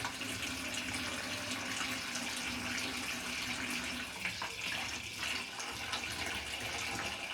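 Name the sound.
water running from a homemade electric instant water heater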